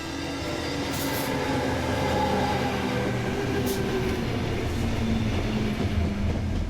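A late-night suburban train in Sydney's outer western suburbs rumbles along continuously, with steady rolling wheel noise and a few brief high squeals, fairly close and with no one speaking.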